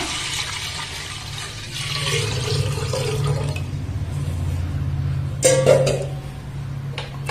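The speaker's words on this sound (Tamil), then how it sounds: "ஆறு கப்பு தண்ணி இப்போ இதில் சேர்த்துடலாம்" Six cups of water pour steadily into a pot for Pongal for several seconds with a full, rushing sound, then a metallic clank and some splashing follow.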